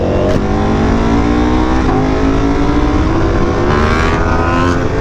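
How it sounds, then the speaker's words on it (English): Italian motorcycle accelerating hard through the gears, its exhaust rising in pitch with each rev and dropping briefly at shifts, loud and close throughout with no talking. "Oh, look at him go with the exhaust and everything."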